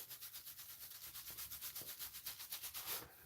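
Wet hand scrubbing across a thick stubbly beard, producing a rhythmic, close, raspy sandpaper-like rubbing of quick repeated strokes, faint and alone.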